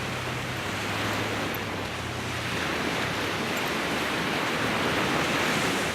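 Ocean surf rolling in as a steady, dense wash of broadband noise, moderately loud and unbroken for several seconds, with a low hum near the start and no voices.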